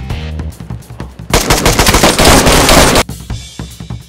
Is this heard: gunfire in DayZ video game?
yes